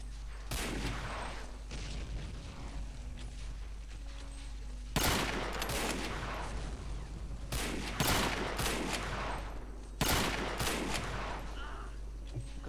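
Assault rifle gunfire in the video game Hidden & Dangerous 2 comes as several sharp bursts and single loud shots spaced a few seconds apart over a steady background hum, with scattered quieter game noise between.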